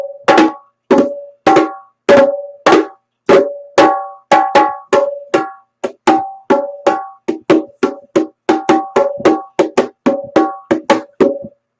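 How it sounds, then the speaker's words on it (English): Bongo drums are struck alone in a quick, lively pattern of about thirty sharp, ringing hits, close and loud, with two alternating pitches. "These are the bongos"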